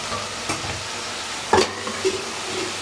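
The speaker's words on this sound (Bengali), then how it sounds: "এই যে রসুন কুচি দিয়ে দিয়েছি, এই যে লঙ্কা ফেলে রাখা লঙ্কা দিয়ে দিয়েছি" Chopped garlic and green chilli frying in oil for a fish curry, a constant crackling sizzle close by, punctuated by a few scraping knocks of a spatula against the pan.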